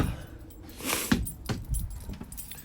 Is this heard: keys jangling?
yes